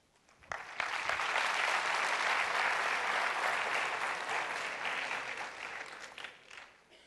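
A conference audience breaks into sustained applause welcoming economist Pablo Bustamante to the stage, a dense wash of clapping that swells after a brief start, holds steady, then thins out near the end.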